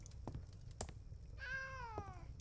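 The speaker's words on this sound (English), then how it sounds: "Oh, cat, come here. I'm gonna give you another pet." Cat meowing in the Travellers Rest video game: a single drawn-out meow with a falling pitch, preceded by a few soft clicks against a quiet game background.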